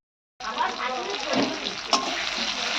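Ginger and garlic hit a hot pan with a sudden loud sizzle that starts after a brief silence and holds steady, with light stirring scrapes and a short clink.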